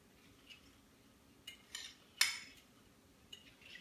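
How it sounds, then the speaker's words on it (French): Utensils clinking against a bowl while stirring liquids for Budwig cream, a few soft taps and one sharper clink midway, close and fairly quiet with no talking. "je mélange tous mes liquides"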